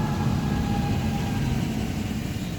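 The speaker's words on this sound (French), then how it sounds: "Attendez, je laisse passer un tracteur." A tractor rumbles by on a road outside, its heavy engine giving a steady low drone at moderate distance that eases slightly toward the end.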